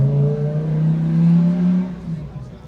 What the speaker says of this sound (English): That was my Lamborghini going out.